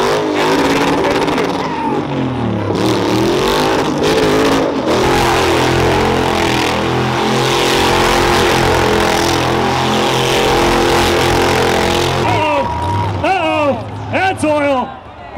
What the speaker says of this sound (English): I hear supercharger noises